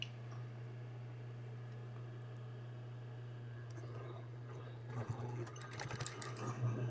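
A sewing machine stitches a belt loop for a costume belt with a steady, quiet mechanical hum, followed by a few louder rattling bursts toward the end as the stitching shifts.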